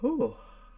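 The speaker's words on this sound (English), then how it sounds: "when I talk about being tired, I yawn" A person's short, voiced yawn lasting under a second, rising and then falling in pitch, close to the listener and fading into quiet room tone.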